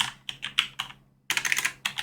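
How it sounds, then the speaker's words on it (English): A street address is typed on a computer keyboard, close and crisp, in two quick flurries of keystrokes separated by a brief pause. "So once I start typing in"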